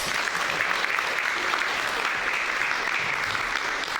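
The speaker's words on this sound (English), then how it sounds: "Everybody give a round of applause for the keeper of the box." A comedy and magic show audience gives a round of applause for a volunteer holding a box, producing steady, even clapping from a large crowd that runs evenly for about four seconds with faint murmurs beneath.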